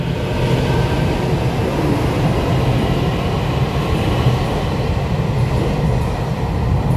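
An EMU800 series electric train, units EMU829 and EMU830, on a test run from Hualien via the North-link line, rumbles past in a steady, loud, continuous roar of wheels and motors heard close by.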